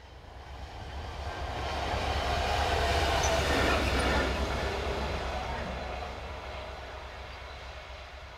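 A freight train rumbles past through open countryside, swelling from a distance to a loud, steady roar of wagons at its peak around the middle before slowly fading away again, with no talk over it.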